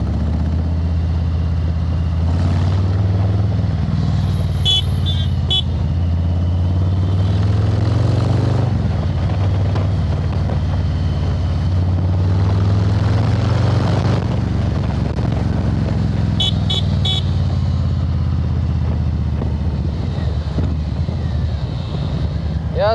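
A 2000cc Harley-Davidson Street Bob rumbles steadily through Indian streets, its deep engine drone loud and continuous under heavy wind buffeting, with faint traffic around.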